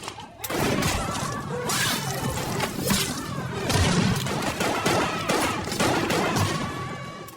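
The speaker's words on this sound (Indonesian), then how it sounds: "anak buah Jack melakukan gerakan mendadak yang otomatis membuat para polisi langsung melepaskan tembakan." A chaotic gunfight in an Indonesian action film, with police opening fire on gang members: dense rapid gunshots, crashes and whooshes blend into a continuous loud barrage.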